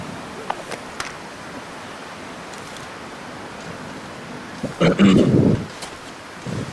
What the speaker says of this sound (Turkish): Oh bir de fırtına çıktı.